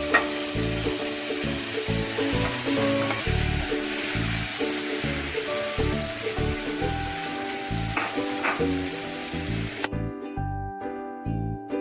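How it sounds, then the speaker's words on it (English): Paneer pieces and chopped garlic sizzle steadily in a hot pan, a loud continuous frying hiss broken by the scrape and clatter of stirring. "you add the chopped garlic first. Let's add the paneer pieces."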